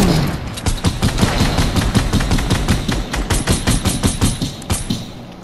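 Rapid automatic gunfire in Fortnite, loud and close, with fast repeated bursts rattling almost continuously and no talk over it.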